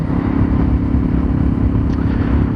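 A Honda VFR motorcycle cruises steadily in sixth gear around 4,000 RPM, a constant mid-pitched engine drone mixed with heavy wind rush, close and loud without change.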